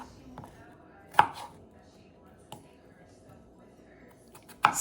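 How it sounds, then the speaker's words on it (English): A knife cuts a cucumber into quarters for an Asian pickle salad, with a few sharp, sparse chops landing on a board at irregular intervals over a quiet background, close by. "cut the cucumber into 4, then cut into quarters"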